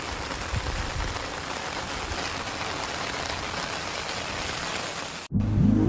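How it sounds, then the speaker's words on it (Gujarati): Heavy rain pours steadily in a rural farm setting, a dense close hiss of falling water that runs unbroken for several seconds before cutting off abruptly near the end. "વધારે પડતો વરસાદ આવવા લાગ્યો છે"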